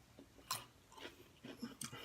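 Nacho chips being chewed during a mukbang, with several crunchy bites and chews coming up close, in separate bursts rather than a steady run, over a faint background.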